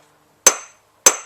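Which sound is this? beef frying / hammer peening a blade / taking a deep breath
hammer peening a blade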